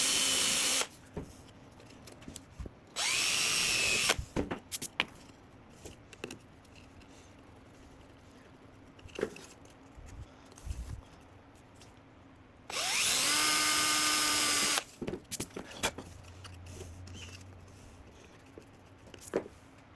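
A power drill drives small screws into the box of a DIY LED studio light. Two loud, close whirring bursts last a couple of seconds each, with quiet handling clatter and knocks between them.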